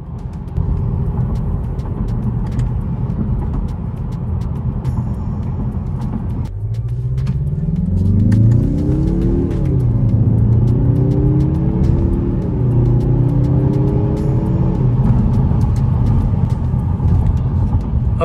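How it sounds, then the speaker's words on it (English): A 2021 Mazda 3 2.5 Turbo AWD heard from the cabin while driving: a low rumble, then the engine and exhaust swell under acceleration through a couple of shifts, with faint turbo sound, steady and moderately loud. "You can hear the turbo, the exhaust."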